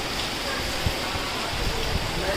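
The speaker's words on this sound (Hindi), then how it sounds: "ये देखो भाई बारिश आ रही है" Rain falls steadily in a dense, even hiss that stays constant throughout, with no voices standing out above it.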